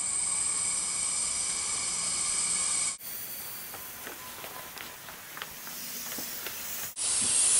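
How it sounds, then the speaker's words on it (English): Pressurized air at about 10 psi from an air compressor hissing out of a leak in intercooler piping on a pressure tester, a steady broadband hiss with faint ticks and shifts partway through, no speech. "I hear a leak."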